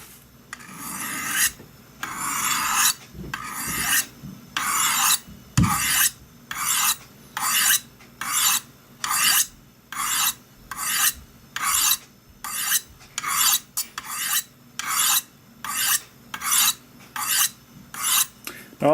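A knife blade is drawn over Spyderco Sharpmaker rods set at 40 degrees, giving about twenty evenly spaced rasping strokes in a steady rhythm, close and clear with no talking.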